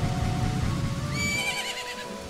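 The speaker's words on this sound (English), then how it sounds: "My horse!" A horse in the video game Zelda: Majora's Mask gives a loud, close whinny that rises into a wavering, quivering neigh over a low rumbling background, with no speech.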